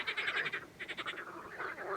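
A frog croaks in rapid pulsed bursts, close and fairly clear, with short gaps between the trains of calls.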